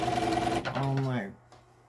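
Sewing machine stitching strip-pieced scrappy hexagon quilt units together into rows, a steady close motor whir that runs for over a second and then cuts off, with a brief overlapping hum.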